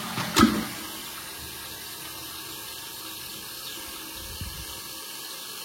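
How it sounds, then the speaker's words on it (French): A toilet cistern with a newly replaced flush mechanism gives a full flush: a sharp click from the button, then a steady rush of water that runs evenly to the end. "Donc là je vais appuyer sur le 2, la grande chasse."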